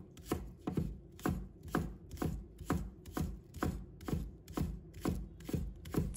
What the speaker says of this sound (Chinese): 葱白给它切末。